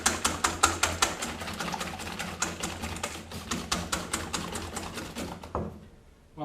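Egg yolks being whisked with sugar for a flan, a brisk, steady run of rapid clicking whisk strokes against the bowl, close and fairly loud, with no talk, trailing off at the end.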